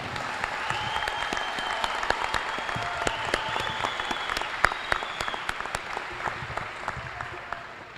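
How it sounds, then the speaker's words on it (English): A graduation audience at a high school ceremony claps steadily in dense, sustained applause for the full stretch, with a few sharper claps and faint whistles rising from the crowd. "Let's give them a deserving round of applause for their impressive achievement."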